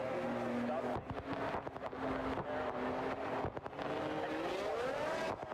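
Formula 1 race cars in a racing video game at the Mexico round, a steady engine drone with pitch rising and falling under continuous talk.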